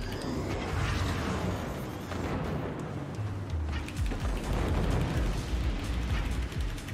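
Heavy gunfire and blasts from the Forts real-time strategy game fill the scene, with a dense, continuous barrage of bursts and rumbling booms rather than a single distinct shotgun report.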